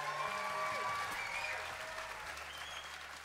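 A Vancouver Playhouse audience at a live concert applauds steadily, a dense, sustained wash of clapping with some cheering that eases slightly toward the end.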